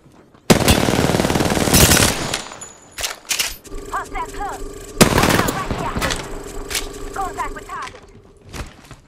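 Gunfire in Apex Legends: long sustained bursts of rapid automatic shots, loud and close, broken by short pauses and lighter mechanical clicks, with brief talk in between.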